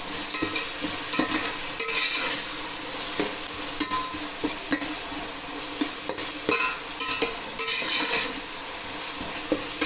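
Onions sauté in oil in a pan for crab gravy, a constant close sizzle overlaid with repeated scraping and clinking as a spoon stirs against the metal.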